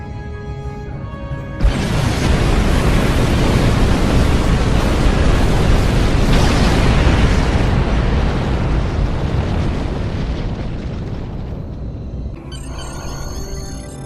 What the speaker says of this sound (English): Tarsi, detonate the charges.